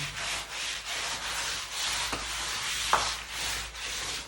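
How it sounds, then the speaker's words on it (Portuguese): A soaked cloth scrubs excess grout off an ecological brick wall in steady, rhythmic back-and-forth rubbing strokes, close and moderately loud, with a couple of small knocks. "Com o pano bem molhado. Tira o excesso da superfície."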